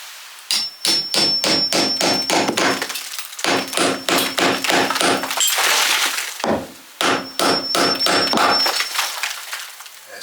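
A hammer drives a nail into solid wood in an old cottage, three close, loud runs of rapid sharp blows with short pauses between them.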